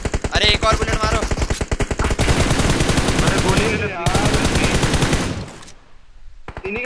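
Rapid automatic gunfire from a BGMI battle royale match rattles loud and close in long bursts, with brief gaps and a short quiet stretch near the end.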